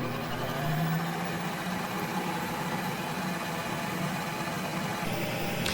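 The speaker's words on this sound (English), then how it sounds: "And now we're going to spin it." A Ninja Creami ice cream machine spinning a frozen pint, giving a steady, even motor drone with a low hum that runs unbroken throughout at moderate loudness, with no talking.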